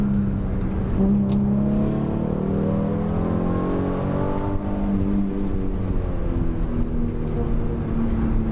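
A race car engine revving hard to around 7,200 rpm, a steady loud drone with rising and falling pitch through gear changes and no talk over it.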